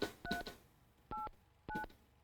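In the video game Mon Bazou, a telephone number is dialed as a series of short, clear touch-tone beeps with uneven gaps between the presses.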